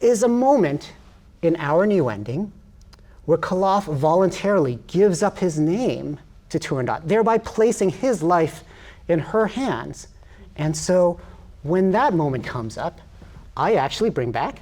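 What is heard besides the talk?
No everyday noise stands out behind the speech.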